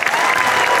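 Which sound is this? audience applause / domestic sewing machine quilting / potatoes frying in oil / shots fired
audience applause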